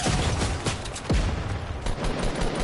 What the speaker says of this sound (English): he's shooting at you now